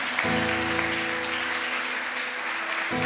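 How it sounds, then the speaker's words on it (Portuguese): Congregational clapping during a church worship service, fairly faint beneath a sustained organ or keyboard chord that drops out briefly near the end. "Você pode aplaudir ao Senhor."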